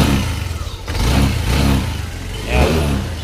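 A Yamaha NMAX V2 scooter engine runs after ECU repair despite a lingering idle problem, a loud close mechanical drone rising and falling with a few throttle surges, with no voices over it.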